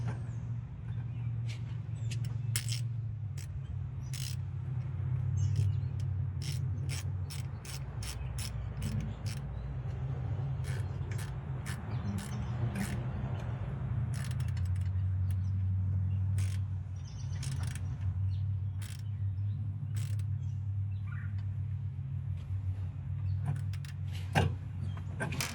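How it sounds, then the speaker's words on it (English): Hose clamp being tightened with a ratchet on the radiator hose of a 1979 Chevy Big 10 with a 454 engine, repeated quick clicking ratchet strokes in irregular runs over a low steady engine-bay hum. "Tighten that hose clamp back down."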